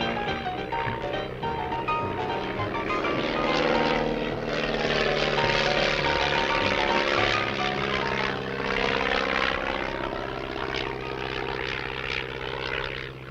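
A propeller plane flying over the desert, its engine a loud, steady droning hum with a pulsing propeller beat that swells and sweeps in pitch as it passes overhead.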